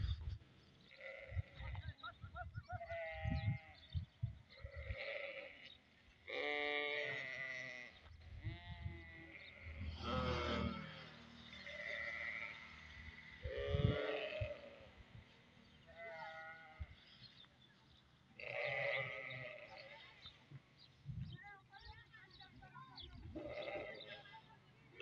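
Local sheep bleat repeatedly in a cold rural area, with several loud, wavering calls spread across the clip, some overlapping, over faint ambient background noise.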